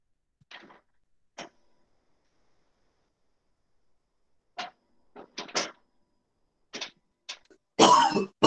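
Several short, sharp coughs come in scattered bursts with quiet gaps between, ending in a louder, rougher cough up close.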